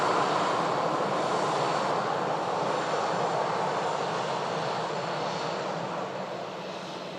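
Aer Lingus UK airliner engines at Manchester airport, a loud, steady roar that fills the whole stretch, slowly fading slightly toward the end.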